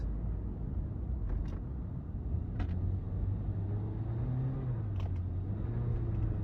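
A car without snow tires strains up a snowy hill, a low engine rumble rising and falling in pitch, heard from inside the vehicle with faint scattered clicks and knocks.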